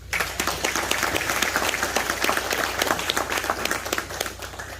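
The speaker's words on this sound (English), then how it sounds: "Give them a round of applause." Audience members burst into a round of applause, dense, close clapping from a crowd held steady for several seconds before easing slightly at the end.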